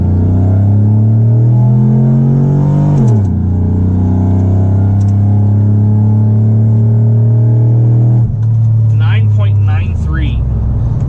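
A 2008 Chevy Silverado with a 4.8L engine and longtube headers pulls from a roll at about 10 mph, its loud exhaust note climbing, dropping at a shift, climbing again, then easing off, with voices under the engine.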